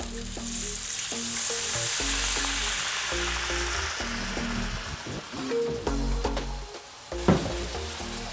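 Chardonnay poured into a hot pan with blackfish fillet sizzles and crackles steadily, a dense close frying hiss with scattered pops, no talking.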